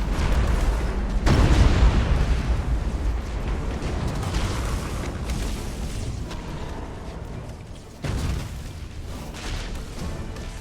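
Starship gun batteries fire in the space battle game Battlefleet Gothic Armada II against closing Tyranid bioships, a dense, rumbling barrage of heavy booms that swells, eases and surges again near the end.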